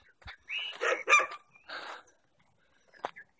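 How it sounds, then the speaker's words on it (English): A loud, busy dog barks near a property in a few short, rough barks and yips spread over a few seconds, with brief quiet gaps and a final sharp bark. "this dog is really loud, really busy"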